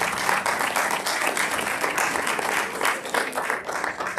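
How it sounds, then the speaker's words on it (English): An audience at a Boston city council candidate forum claps loudly and continuously, a close, dense burst of applause that holds steady throughout. "round of applause for all the organizations that are taking time to"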